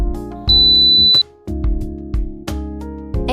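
A smart cabinet or drawer lock gives one long, steady electronic beep to confirm fingerprint setup. The beep is clear and sustained for under a second over background music.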